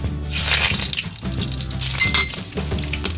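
Panch phoron, bay leaves and green chilies frying in hot oil for vegetable noodles give a loud, steady sizzle close up, broken by a few metallic clinks of stirring. No one speaks.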